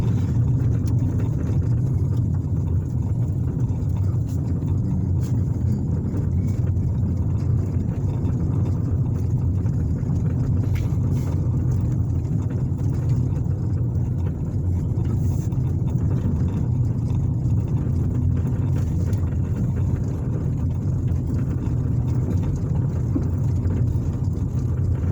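A car drives along rural roads around Patricksburg, Indiana, giving a constant low road and engine rumble with a steady hum of cabin and wind noise throughout, and no one talking.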